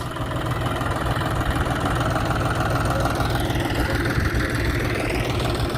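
A John Deere tractor engine runs steadily close by, a low rumbling drone that holds even throughout with no pauses.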